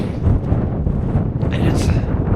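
Wind buffeting the microphone high on the Halo Ridge of Mount of the Holy Cross, a loud, close, continuous low roar with gusty rustling throughout.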